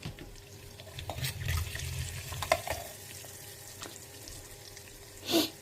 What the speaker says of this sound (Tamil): இப்போ கடுகு வந்து லேசாக பொரிய ஆரம்பிக்கிறது